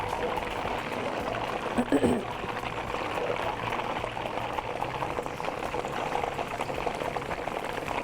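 Chicken leg pieces for broast go into hot oil over high heat, producing a loud, continuous bubbling fry that stays even throughout, with a small clatter near the start and a voice faintly audible beneath.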